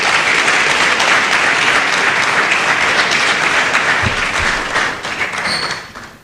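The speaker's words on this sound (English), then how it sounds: "Another round of applause for him." Lecture audience applauding at an inaugural university lecture, a loud, steady wash of clapping throughout that thins toward the end, with a couple of soft thumps.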